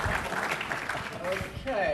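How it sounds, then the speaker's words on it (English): An audience at a Cloud Expo panel applauds in a dense, steady patter of clapping at moderate volume, with voices mixed in beneath it. "we're going to judge this by the strength or lack thereof of applause from the audience"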